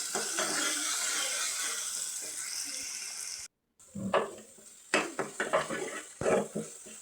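Masala frying in oil in a pan for coconut-mustard chitranna: a steady close hiss of frying under clinking utensils, a brief cut to silence, then bursts of scraping and stirring against the pan.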